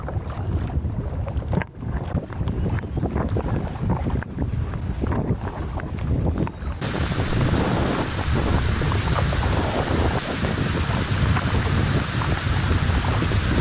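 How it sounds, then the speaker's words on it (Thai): Steady broadband rain hiss pours down around a kayak on the Pa Sak River during a storm, continuous and loud with wind noise buffeting the microphone, the wash thickening noticeably partway through. "วันนี้ฝนกำลังตก"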